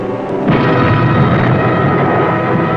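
Torpedo explosion striking the battleship Royal Oak at Scapa Flow, a loud, heavy boom erupting after a brief lull and rumbling on in a dense, roaring wash.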